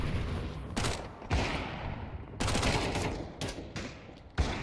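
Rapid bursts of gunfire in a Counter-Strike 2 match, several loud volleys separated by short gaps, with sharp close shots cutting through a steady background of game noise.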